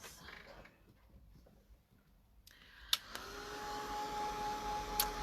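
A dryer is switched on to dry a craft project, a door keepsake: a steady blowing whir starts up after a few seconds of quieter handling noise and runs on with a sharp click or two.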